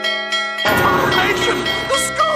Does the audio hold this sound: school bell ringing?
yes